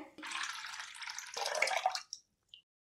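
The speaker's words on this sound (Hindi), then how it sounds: "एक लीटर दूध के अंदर मैं हाफ लीटर पानी ऐड करूँगी" Half a liter of water poured into a liter of milk for making curd, a steady splashing stream for about two seconds that stops, followed by a few faint drips, close up.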